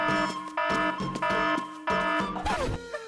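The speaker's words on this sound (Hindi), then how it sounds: "अलार्म बंद करो, मैं सो नहीं पा रहा।" A loud, harsh alarm blares in repeated bursts with short gaps, a buzzing electronic tone, ending in a jumble of clattering noise.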